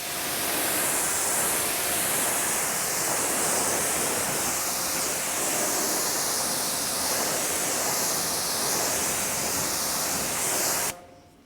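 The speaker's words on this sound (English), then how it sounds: "So let's do a little water test and foaming." Water sprays steadily onto a car tire coated with ExoForma tire coating, a continuous loud hiss lasting about eleven seconds before cutting off abruptly.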